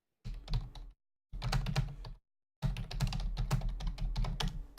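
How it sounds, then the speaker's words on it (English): Bursts of rapid keystrokes on a computer keyboard come in three separate runs with short silent gaps between them, close and fairly quiet. "How typing intensifies."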